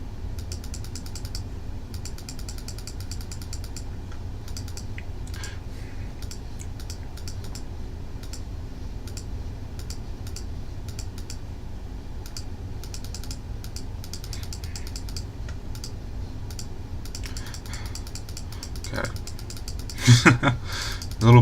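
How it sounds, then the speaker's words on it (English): A computer keyboard and mouse click steadily and quietly during thumbnail editing, the taps coming in irregular quick bursts with a few louder clicks at the very end. "there might be a lot of clicking going on"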